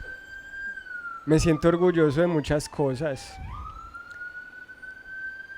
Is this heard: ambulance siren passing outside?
yes